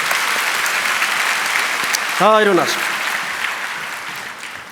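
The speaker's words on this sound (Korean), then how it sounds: "뜨거운 여름을 승리하게 하신 주님께 영광의 박수를 올리십시다" A church congregation applauding together, a dense wash of clapping that fills the room throughout, with a voice speaking over it briefly partway through.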